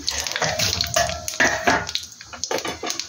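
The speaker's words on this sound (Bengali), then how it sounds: "এখানে আমি সরষের তেল দিয়েছি, কালো জিরা শুকনো লঙ্কা ফোড়ন দিয়ে দিলাম" Black cumin and dried chili tempering in hot mustard oil, a loud bursting sizzle with crackling spits throughout, close and continuous, with no talking over it.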